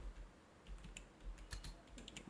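Quiet keystrokes on a computer keyboard, a short run of light taps heard alone at close range against a soft background hum.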